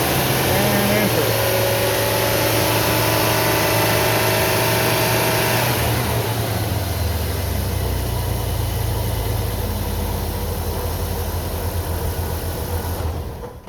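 Car engine idling, then revving to about 2500–3500 rpm during a battery test. The steady hum rises in pitch, holds, and then eases back down, heard up close with a person talking over it.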